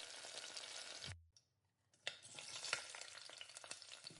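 Medu vada, a fried urad dal fritter, sizzling and bubbling in hot oil as it is turned over repeatedly, a steady crackling hiss broken by a brief near-silent gap, then resuming with soft clicks of a utensil.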